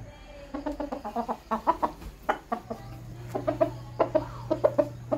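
Sweater Kelso gamefowl cluck close by in quick bursts of sharp repeated notes, with a low steady hum running underneath partway through.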